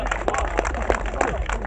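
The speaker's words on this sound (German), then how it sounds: "Dann muss ich mal klatschen." A man claps his hands into the microphone at an outdoor demonstration in Rudolstadt: about five sharp, evenly spaced claps, close and moderately loud, over a steady low background hum.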